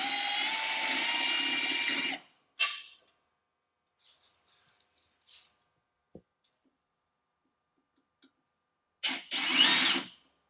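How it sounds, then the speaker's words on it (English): A drill with a 13/64 bit bores out the rivets holding the OEM brake line brackets near a trailing arm. It whines steadily for about two seconds, then gives a few short bursts separated by quiet, with one louder burst near the end. "we're just going to drill the rivets out that are holding the OEM brake line brackets on there"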